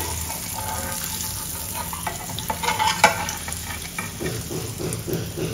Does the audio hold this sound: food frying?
yes